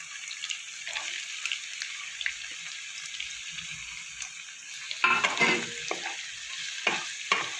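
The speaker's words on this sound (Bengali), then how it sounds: "ফুলকপিটা আমি কিছুক্ষণ নাড়াচাড়া করে নিয়েছি। এবার আমি দেবো কেটে রাখা গাজর।" Cauliflower and carrots stir-fried for egg chowmein, a quiet sizzle that turns into brisk, close scraping and tossing strokes in the pan during the second half.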